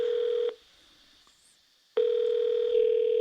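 Telephone dial tone during a phone call, a loud steady tone that stops, leaves a second and a half of near silence, then returns just as steady.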